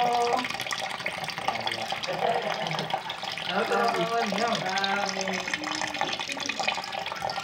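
Water running steadily from an outdoor tap on Mount Banahaw, a constant splashing rush while people talk nearby.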